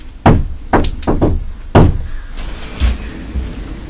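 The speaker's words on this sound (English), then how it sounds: "Because I knocked and it went boom, boom right after." Sharp, loud knocks on wood inside the historic Nathan Hale Homestead: a cluster of distinct raps in uneven rhythm, close and resonant, followed by a couple of softer thuds after a short gap.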